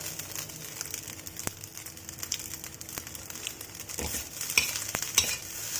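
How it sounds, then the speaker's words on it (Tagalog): Fried rice with salted fish sizzles steadily in a pan while it is stirred, a close, continuous frying hiss with occasional scrapes and taps of the spatula. "Fry lang yan natin guys hanggang maluto yung ating kanin."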